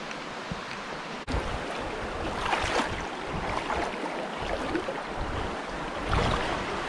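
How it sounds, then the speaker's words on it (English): Creek water rushes at a hiking trail crossing on the Eye of the Needle Trail by the Buffalo National River in Arkansas, a steady close broadband wash with gusty surges and no talk. "I think we're at our next creek crossing."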